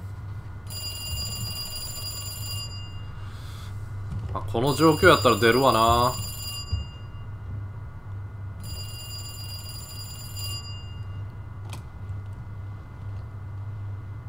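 An old-style telephone bell rings in bursts in the horror game Resident Evil 2, separated by pauses under a low ambient hum, and someone speaks briefly between the rings.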